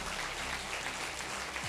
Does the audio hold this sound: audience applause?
yes